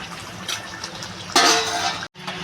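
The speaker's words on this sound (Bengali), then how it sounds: "এটা এখন আমি ঢাকা দিয়ে দেবো" A lid is set on a pot of chicken and potatoes being slowly fried down in spices, giving a short metallic clank and rattle close by over a background sizzle. The sound cuts off abruptly.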